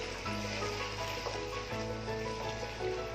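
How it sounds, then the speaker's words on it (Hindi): Chicken fries in a pan for a tomato chicken kadai, giving a steady, quiet, continuous sizzle with soft crackles and no voices. "चिकन हमारा फ्राई हो रहा है"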